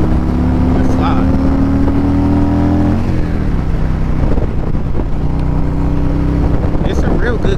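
A Harley-Davidson Road Glide cruiser, a freshly built salvage bike on its first ride, rumbles steadily and close with a low engine drone, shifting pitch partway through as it cruises along; wind noise runs throughout.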